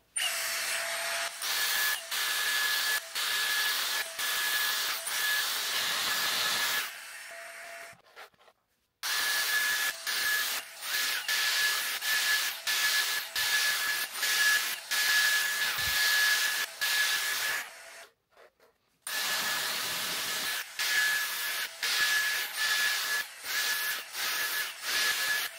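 A Dyson Airstrait hair dryer-straightener blowing hair dry gives a loud, steady airy hiss with a faint high whine, cutting out briefly twice before resuming.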